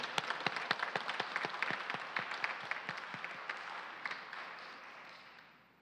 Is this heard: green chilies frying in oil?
no